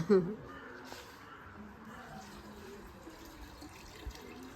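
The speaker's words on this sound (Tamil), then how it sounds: "இன்னும் இன்னும் தண்ணி வா." Water pours into a cooking pot for a Pongal celebration at Yelagiri, a steady, faint splashing and trickling that runs throughout, with a short burst of voices at the start and people talking around it.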